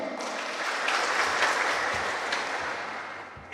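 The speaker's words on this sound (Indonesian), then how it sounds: "Tepuk tangan untuk kemuliaan nama Tuhan." A church congregation applauds during a Pentecost service, a sustained, dense roar of clapping that swells and then fades slightly, heard fairly loud with no talk over it.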